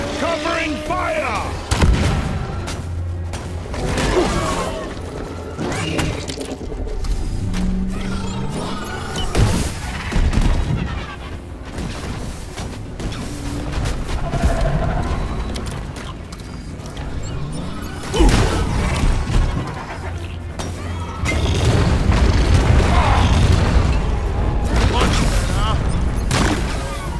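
Constant gunfire and explosions rage in Deep Rock Galactic during a solo gunner mission, with loud, rapid firing and crashing blasts. Shouted voices come through over the nonstop combat.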